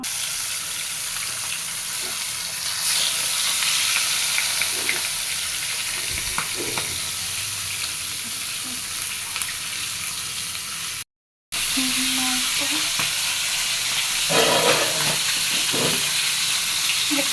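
Large fish frying in hot oil in a home kitchen, a steady broad sizzle with a few clattering stirs and short crackles, close and continuous, with a brief dropout midway.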